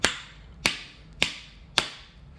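A Helle knife is hammered through wood while batoning, with four sharp, evenly spaced wooden cracks about half a second apart, close and crisp, each ringing briefly before the next strike.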